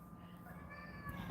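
A house cat meows in a home kitchen while a meat tomato sauce simmers, a drawn-out, faint cry with a rising pitch near the end, under quiet room noise and a possible murmur of voice.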